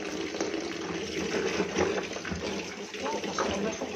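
Tap water runs steadily into a container in a home kitchen, a soft, constant splashing hiss heard fairly close at low volume, with faint background voices.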